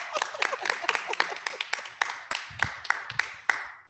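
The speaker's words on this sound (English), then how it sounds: "Everybody clap." An audience at a storytelling workshop during a Black farming conference claps together for about four seconds, a dense ragged spread of many hands with a few louder close claps standing out.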